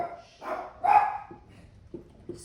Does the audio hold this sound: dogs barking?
yes